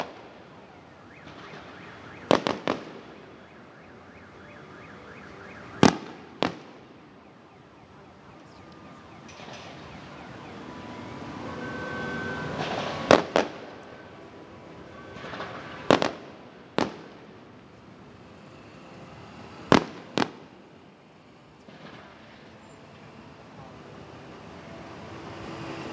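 Fireworks at the end of a show boom repeatedly in the distance, sharp cracks scattered irregularly across a long stretch over a steady outdoor rumble, with car alarms set off by the blasts wailing faintly underneath.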